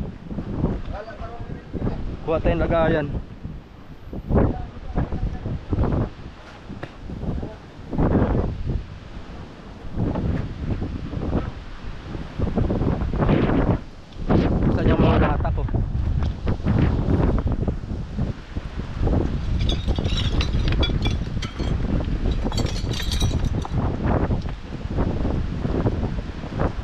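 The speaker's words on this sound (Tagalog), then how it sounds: "Oh, lakas ng hangin." Strong wind buffets the microphone in loud, gusty low rumbles while people talk over it throughout.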